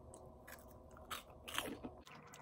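Crunchy vegan cheese puff snacks being bitten and chewed up close, a few crisp crunches followed by quieter mastication, faint and with no talking.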